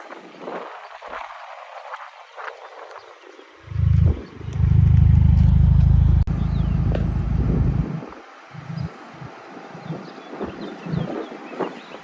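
Subaru WRX with aftermarket exhaust revving outdoors, a deep burbling blip followed by a sustained loud rev lasting a few seconds before dropping off, with wind buffeting the microphone throughout.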